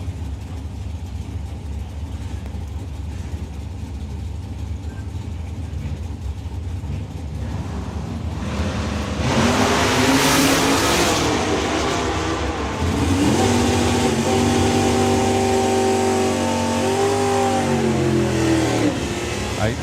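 A Shotgun Mustang drag car at a European drag racing finals launches hard, its engine roaring loud and close, then revving up through rising gear pitches as it pulls away down the strip, with crowd and commentary noise around it.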